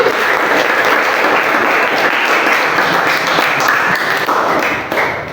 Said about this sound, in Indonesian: Tepuk tangan untuk belajar.